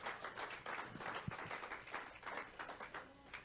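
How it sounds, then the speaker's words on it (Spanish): A church congregation applauds, with faint, scattered clapping that comes in uneven bursts at a distance. "Denle un aplauso al Señor."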